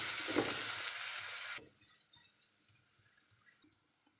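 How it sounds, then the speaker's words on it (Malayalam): Sliced onions sautéing in oil with salt hiss in a loud sizzle for about a second and a half, then drop to a quiet pan with faint clinks and light stirring taps. "സവാള ഒന്ന് നന്നായിട്ട് വഴണ്ട് വരുന്നതും വരെ ആക്കി കൊടുക്കണം"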